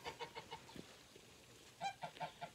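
A pet goose honks and clucks in short bursts, soft and fairly distant against a quiet outdoor background, with a faint low rumble throughout.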